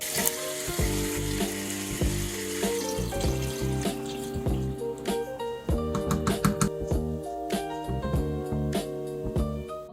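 Herbs, tomato paste, water and beef broth tipped into a soup pot for beef and gnocchi soup, giving a continuous splashing pour and sizzle over a steady tonal background, with no talking.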